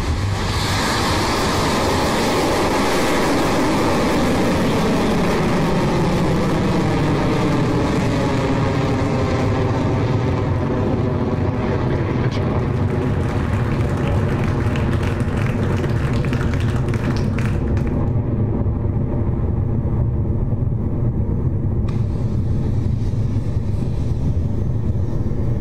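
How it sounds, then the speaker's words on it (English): Electron rocket lifting off from Launch Complex 1, a continuous loud broadband roar that holds steady throughout, with a rumbling low end and no voices over it. "Electron has lifted off from Launch Complex 1"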